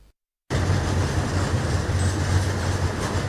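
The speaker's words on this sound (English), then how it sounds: "A train arriving at Matindi Nokma Depot in Blantyre." A train arriving at the Matindi Nokma fuel depot in Blantyre, Malawi, with a steady loud low rumble of rolling wagons that starts abruptly and continues without break.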